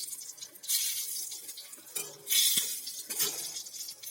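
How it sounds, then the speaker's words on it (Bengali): Dried red chillies and bay leaves dropped into hot oil in a kadai, giving bursts of bright crackling sizzle in three waves, with faint clinks of a utensil against the pan. "এবার আমি গরম তেলের মধ্যে দিয়ে দিচ্ছি শুকনো লঙ্কা আর তেজপাতা।"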